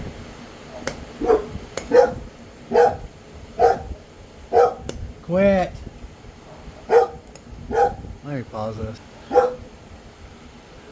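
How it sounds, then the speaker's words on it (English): Dogs bark at night in a steady series of sharp, evenly spaced barks at moderate distance, with a drawn-out howl in the middle and someone talking briefly. "I'm sorry about the dogs barking"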